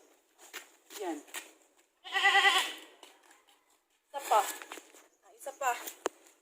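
Goats on a farm in the countryside bleat repeatedly in short, wavering cries, several calls spaced across the stretch, fairly close and clear with quiet gaps between them.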